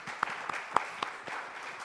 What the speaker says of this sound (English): and our applause, please